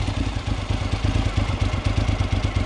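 A motorcycle engine idles while warming up, a steady close, low rhythmic rumble with even pulsing throughout.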